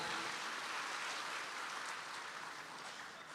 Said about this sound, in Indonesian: kita tepuk tangan untuk yang berani tampil ke depan